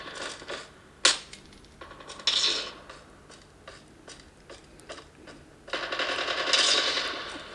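Gunfire in Call of Duty Mobile, played on a Redmi K20 Pro: sharp shots and short automatic bursts crackle in uneven clusters, with one loud crack near the start and a longer rattling burst toward the end.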